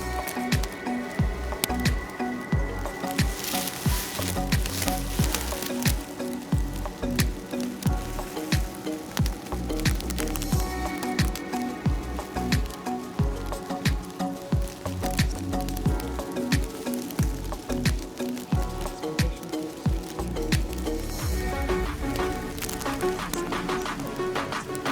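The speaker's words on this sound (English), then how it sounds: "It's warmer rain, so like in summer." Warm summer rain falling at night in teamLab Botanical Garden Osaka, a dense steady patter of drops on plants and paths with sharp close splats and drips throughout, no talking.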